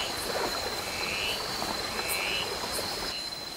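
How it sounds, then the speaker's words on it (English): Endangered Miss frogs calling in jungle, heard as faint repeated croaks and chirps over a steady dense wash of insect and forest background noise with a thin high whine. "we can actually hear endangered miss frogs, a target species of our quest to film rare frogs"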